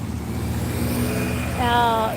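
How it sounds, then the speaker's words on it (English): A car drives past on a town street near a vintage car race in Northam, its engine droning steadily and swelling slightly toward the end, with a faint whine rising over the passing traffic noise. "I'll just let this car pass."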